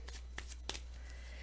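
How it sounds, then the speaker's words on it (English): A deck of tarot cards being shuffled by hand: a few brief, soft papery riffles and rustles, close by, over a steady low hum, with no talking. "I'm going to give that another shuffle and just bury those guys in there."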